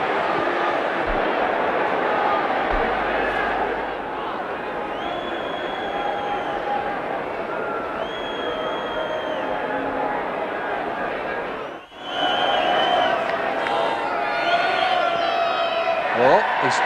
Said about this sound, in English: The Sydney crowd doesn't like this.